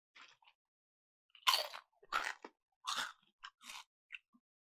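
Doritos Twisted Lime corn chips are crunched and chewed up close, a series of sharp, separate bites and crunches spaced by brief silences, loud and dry, with no talking.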